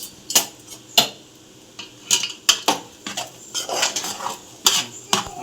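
Egg fried rice with salt and garam masala being stirred in a pan, a utensil clattering and scraping against the metal in quick irregular strokes, fairly close and loud with no voices.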